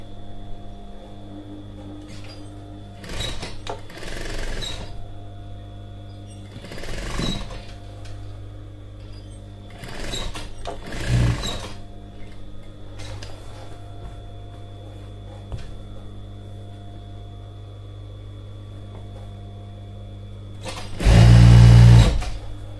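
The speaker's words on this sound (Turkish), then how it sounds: "Aynı şekilde bunu da katlayıp kenardan dikiyorum." A sewing machine stitches along the folded edge of a single duvet cover set in short whirring runs separated by pauses, ending with a loud, fast burst over a faint constant hum.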